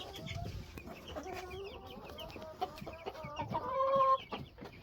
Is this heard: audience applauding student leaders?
no